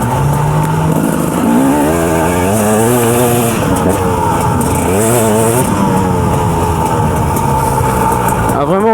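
A 2007 KTM 250 EXC dirt bike engine-brakes on a wooded trail, its loud two-stroke engine note rising and falling continuously as the revs swing up and down close to the microphone.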